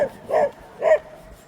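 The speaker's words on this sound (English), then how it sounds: "It's always the little dogs showing teeth and whatnot." A small dog barks aggressively outdoors along a trail, two sharp close barks about half a second apart with a brief yip at the start.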